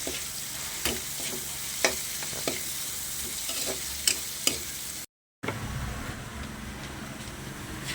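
Pinapaitan cooking in a pan, a steady sizzle of frying broken by periodic scraping taps of a spatula stirring, close and moderately loud, with a brief dropout partway through.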